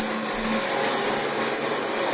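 A Dyson DC25 upright vacuum runs over a very dirty carpet, its motor a loud, steady, close-up roar with a high whine on top, unbroken and with no voices.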